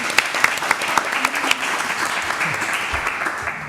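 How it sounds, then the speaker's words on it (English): Audience applause at a book festival panel on writing and recovery: steady, moderately loud clapping from a room of people, with scattered distinct claps and faint voices underneath. "oh yeah, we should applaud"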